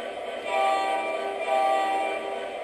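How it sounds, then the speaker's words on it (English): An MTH model train whistle sounds its DCS forward signal, two close, loud tonal blasts with a short dip between them and a steady hum beneath. "3 toots of the whistle."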